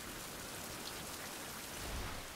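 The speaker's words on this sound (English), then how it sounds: "And it's raining." Steady, dense rain patters in the Survival: Fountain Of Youth video game, a continuous close hiss of drops on surfaces with no pauses or other sounds.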